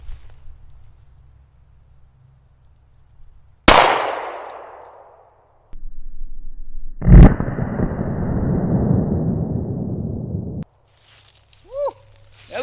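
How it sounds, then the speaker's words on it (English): Two loud gunshots from a Glock 26 pistol firing 115 grain brass ammo at a helmet outdoors, each sharp crack trailing off into a long decaying echo, with a short gap between them. "I'm gonna be shooting some 115 grain brass tull ammo"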